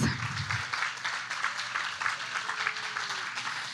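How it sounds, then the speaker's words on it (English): An audience at a gala applauds, a dense patter of many hands clapping at moderate distance for a few seconds, with a voice faintly underneath. "Let's give them a big round of applause."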